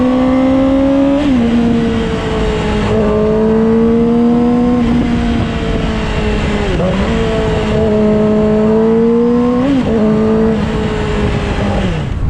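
A Yamaha YZF R6 sport motorcycle accelerates hard with a loud, close engine note that climbs and drops through repeated gear shifts. Steady wind rush runs beneath it throughout.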